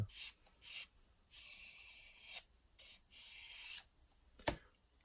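Charcoal lead in a Koh-i-noor lead holder being sharpened to a point, producing soft, close gritty rubbing strokes in repeated bursts with short pauses and a sharper scrape near the end.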